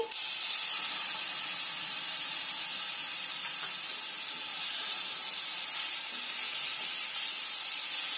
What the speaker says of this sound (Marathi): आता त्याच्यामध्ये भेंडीमध्ये आहे ना दही टाकते